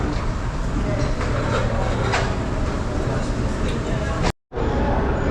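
A Dubai Metro train at a station near Dubai Mall gives a loud, steady rumble and hum with a brief dropout near the end, while people talk in the busy surroundings.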